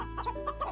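Short run of chicken clucks from a VRChat video game chicken farm, a few close, soft clucks over a steady low background hum.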